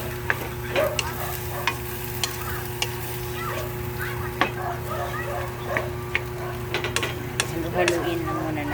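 Breadfruit simmering in coconut milk with dried fish, stirred in a pot with repeated scraping clicks over a steady low bubbling hum, with faint background voices.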